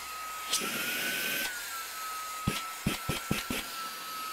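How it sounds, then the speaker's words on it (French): A small handheld vacuum cleaner motor whirs steadily with a high whine, joined by a burst of hissing airflow, then a few sharp clicks and knocks near the end. "C'est vraiment un aspirateur, regarde, écoutez."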